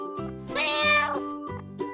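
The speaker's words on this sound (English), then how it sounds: "cat" A domestic cat meows several times in quick succession, clear and close, with a drawn-out rising call in the middle and shorter mews around it, all over soft background music.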